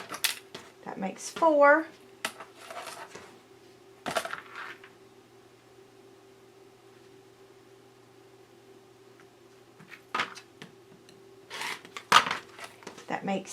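Quilt fabric being cut, a few short sharp snips and clicks scattered between quiet stretches, with a voice speaking briefly.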